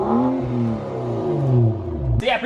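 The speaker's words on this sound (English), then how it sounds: "pretty much what this car sounds like on just a muffler delete" A BMW F10 535i with a muffler-delete exhaust revs in a couple of quick blips, its deep, rasping note rising and falling loudly, then cutting off with a short mechanical clatter at the end.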